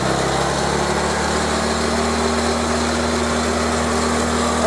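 A small engine runs steadily with its throttle held open, giving a loud, continuous, even drone with a fixed pitch that holds unchanged throughout, with no voices.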